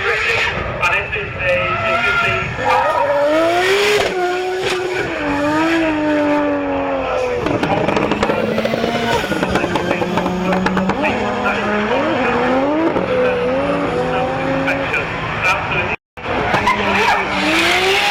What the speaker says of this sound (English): these guys are doing drifting